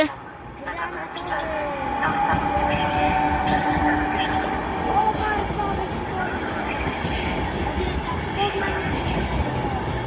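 An Express Intercity train from Berlin to Warsaw East arrives, a loud continuous rumble of rolling wagons and wheels with tonal hum, heard nearby, while someone speaks over the noise.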